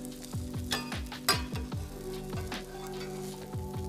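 Vegetable uttapam sizzles and fries on a hot pan, a steady close crackle broken by repeated scraping strokes of a spatula, with no talking.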